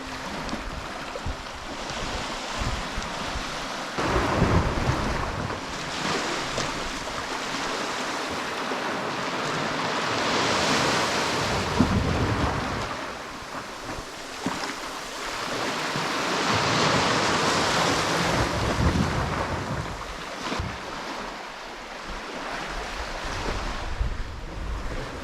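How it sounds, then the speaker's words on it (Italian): Sea waves surge and crash against the rocks of a cove at Cala Luna, Sardinia, with broad swells of surf rising and falling over roughly 25 seconds alongside steady wind noise, no voices heard. "questa specie di tubo dove le onde vanno a infrangersi e creare quel bellissimo effetto di vuoto tra la roccia e il mare"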